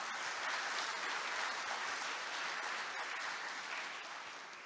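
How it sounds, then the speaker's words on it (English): A conference hall audience gives sustained, dense applause for a panel at a dam safety conference, heard at a distance and fading slightly toward the end. "I would request you to kindly give a round of applause to all of them."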